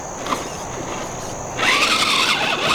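A 3D-printed custom 6x6 RC crawler revs its motor hard, its wheels spinning and whining loudly outdoors in a continuous, rising burst with no talking.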